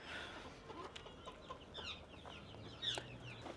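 Assorted birds calling in a walk-through aviary at a Cape Town bird sanctuary, with clucking fowl-like chirps and scattered sharp calls near and far over steady background noise, and a louder call near the end.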